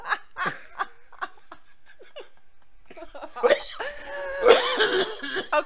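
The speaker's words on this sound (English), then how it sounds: "Coughing segment comes early tonight, apparently." Several bursts of coughing, some sounding close to laughter, come in short irregular fits, growing louder and denser toward the end with voices mixed in.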